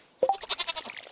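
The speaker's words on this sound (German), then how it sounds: "Ich habe hier doch die Ziege am rummeckern." A goat bleats in a farming game, one close, loud, wavering call lasting about a second.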